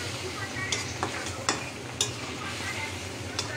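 Bitter gourd stirred in a frying pan, with a steady sizzle of hot oil and a few sharp clicks and scrapes of a utensil against the pan, close up and without talk.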